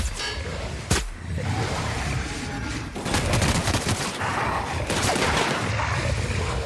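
Plasma flamethrower firing in The Outer Worlds: Spacer's Choice Edition, a loud, continuous roaring spray with sharp bursts, sustained close-up for several seconds.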